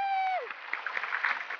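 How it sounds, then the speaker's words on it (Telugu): An audience claps for a dancer on a Telugu celebrity TV show, steady applause rising after a short sung note and continuing under light crowd noise. "Clap for him, come on."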